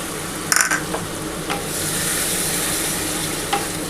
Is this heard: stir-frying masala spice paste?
yes